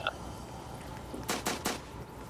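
Three sharp gunshots crack in quick succession in a Roblox game, standing out over a steady background of ambient game noise.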